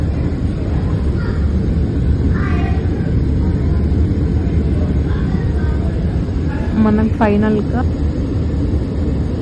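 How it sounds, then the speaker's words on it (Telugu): Steady broadband airplane cabin roar on a Hyderabad to Mumbai flight during landing approach, a constant engine and air rumble throughout, with a person speaking briefly over it. "ఫైనల్గా మనం ల్యాండ్ అయితే కాబోతున్నాము."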